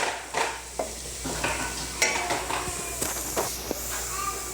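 Garlic fries in hot ghee, with a close, busy sizzle broken by repeated clinks and scrapes of a spoon against the pot.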